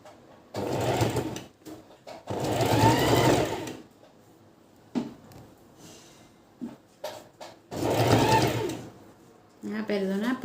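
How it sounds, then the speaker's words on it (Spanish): A sewing machine stitches a bag pocket in three loud, close bursts of rapid whirring with short quiet pauses between them. "Vamos a empezar a coser"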